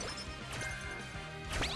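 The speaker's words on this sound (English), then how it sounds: "Why does it sound like broken glass?" Within a Balatro video game, a broken-glass effect gives sharp shattering crashes, one near the start and a brighter burst at the end, over a busy, faint game-music background.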